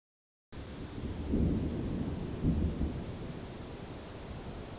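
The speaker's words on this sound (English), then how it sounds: "Thunder, the loud booms or cracks that you hear during a storm." Thunder rolls through a storm in the PC game Shelley Duvall's It's a Bird's Life, starting abruptly after silence as a deep rumble with two swelling booms over a steady rain-like hiss.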